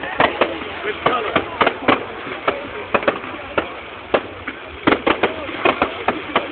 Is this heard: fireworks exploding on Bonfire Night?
yes